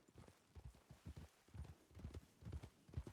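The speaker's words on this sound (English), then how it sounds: "His horse just rode into town without him." Hooves of a horse clip-clopping in the video game Red Dead during roleplay, a quiet, even trotting rhythm of repeated soft thuds arriving in town, faint and without talk over it.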